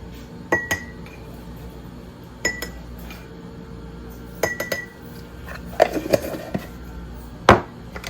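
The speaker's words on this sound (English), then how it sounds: "We're going to add in 1 teaspoon of stevia into each of the jars." A teaspoon clinks against glass jars as stevia is spooned into each one during meal prep, with sharp separate taps and chinks at irregular intervals, close and clear, no voices.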